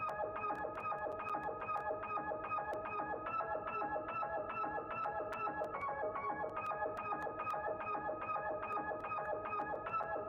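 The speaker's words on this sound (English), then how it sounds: "this is a piano shot called the felt. Super simple hard piano, and this is what this MIDI sounds like." Felt piano sample in FL Studio playing a repeating MIDI pattern: soft, steady, evenly pulsed piano notes looping with a light echo, quiet and continuous with no voices.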